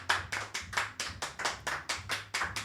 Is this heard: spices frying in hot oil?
no